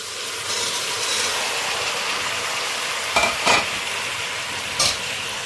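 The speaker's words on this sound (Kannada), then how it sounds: "ನೀಟಾಗಿ ಮಿಕ್ಸ್ ಮಾಡ್ತೇನೆ" A pot of toor dal (pigeon pea) sambar with potatoes is stirred: a steady hiss of cooking broken by a few short, sharper scraping strokes, with no talking.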